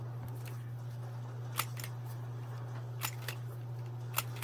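Several short, sharp snips from a corner rounder punching the corners of printed 45-pound paper, spaced irregularly over a steady low hum, close by with no talking.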